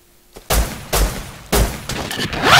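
Gunfire in the survival video game Rust: three loud, punchy shots about half a second apart, with a fourth shot building at the end, close and dominant, with no speech.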